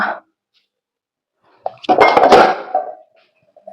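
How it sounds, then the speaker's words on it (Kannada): A cooking pot is set down in a home kitchen, giving one brief knock followed by a short metallic rattle and clink, close by, with near silence before it. "ಒಂದು ಪಾತ್ರೆ ಇಟ್ಕೊಳ್ಳೋಣ"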